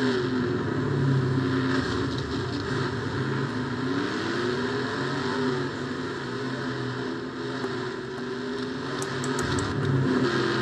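Race car engines roar steadily in an off-road race from a video game, a dense continuous drone of several motors with rising and falling pitch sweeps, loud and close throughout.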